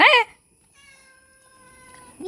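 A single loud meow opens, followed by a quiet stretch with faint steady tones and low background noise.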